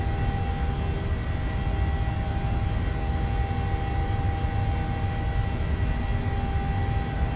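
A PMDG 737-700 airliner in Microsoft Flight Simulator rolls down the runway at takeoff power, its engines producing a steady, loud roar with a faint tonal whine that holds evenly throughout, with no voices.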